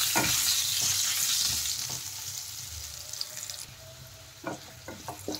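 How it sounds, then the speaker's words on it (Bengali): Boiled potatoes frying in oil with turmeric, a steady close hiss of sizzling that fades a little, broken by soft scraping stirs and clinks of the utensil against the pan. "এখন আমি সেদ্ধ করা আলুগুলো দিয়ে দেব। আলুগুলো কিন্তু ভালো করে ভেজে নিতে হবে লাল লাল করে।"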